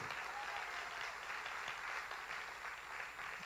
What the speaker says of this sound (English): if you can just give him a big round of applause